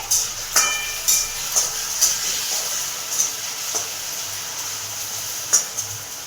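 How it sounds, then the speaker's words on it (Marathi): Potatoes fry in hot oil for potato poha, giving a constant bright sizzle with light stirring clicks tapping through at irregular intervals. "आलू तेलामध्ये फ्राय करून घेऊया"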